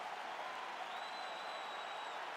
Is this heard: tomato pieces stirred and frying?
no